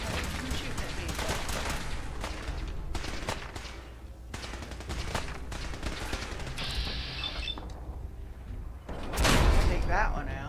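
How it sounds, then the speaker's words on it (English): Enemy gunfire aimed at the player in modded Fallout 4 comes as repeated bursts of rapid shots with sharp cracks. A loud burst near the end stands out above the rest, and a voice talks intermittently. "Oh, who's shooting at me?"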